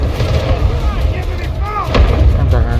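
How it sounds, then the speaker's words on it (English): Artillery barrage in a Minecraft game, heavy booms and thuds rolling in repeatedly with layered rumbling impacts, loud and close, while a voice talks over the explosions. "Roger that. Artillery barrage incoming."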